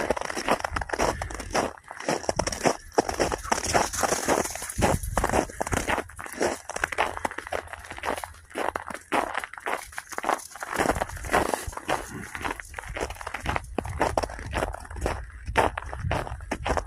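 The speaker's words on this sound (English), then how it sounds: "Crunchy snow." Steady crunching footsteps on snow, close to the microphone, continuing in an uneven walking rhythm with scattered crackles and no talking.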